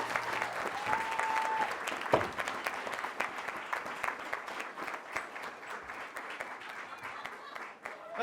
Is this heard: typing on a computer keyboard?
no